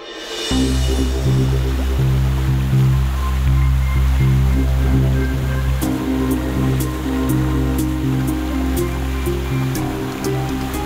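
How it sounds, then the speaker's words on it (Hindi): Roaring waterfall in a fantasy forest setting, a steady, loud, dense rush of falling water filling the whole stretch, with a series of faint high ticking sounds over it toward the end. "इस झरने की वजह से आवाज नहीं आ रही है।"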